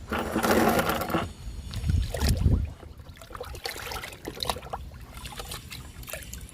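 Liquid fertilizer poured from a can onto potted plants after rain, a trickling, splashing pour that swells and fades over several seconds, close by with no talking.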